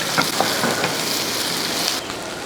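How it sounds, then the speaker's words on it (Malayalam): Chicken tossed with capsicum pieces in a hot pan on the stove, giving a steady close sizzle and frying hiss with soft scraping stirs, which cuts off abruptly near the end. "ശേഷം എല്ലാം കൂടെ ഇളക്കി ഒരു ഒന്നോ രണ്ടോ മിനിറ്റ് ഒന്ന് അടുപ്പത്തിരിക്കട്ടെ"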